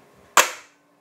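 A single sharp snap as a toy dart gun is fired, a close, sudden pop with a brief fading tail, otherwise quiet.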